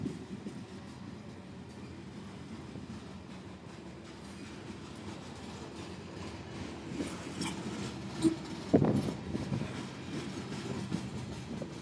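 A CSX freight train with a mid-train DPU locomotive rolls past near Madisonville, Kentucky, a steady broad rumble of wheels and cars that swells slightly toward the end, with a brief clank standing out.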